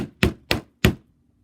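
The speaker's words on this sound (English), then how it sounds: "you're just going to hammer. You want to make it flat." Three sharp hammer strikes flatten a piece of craft wire against a hard surface, close and loud, spaced unevenly over about a second, then silence.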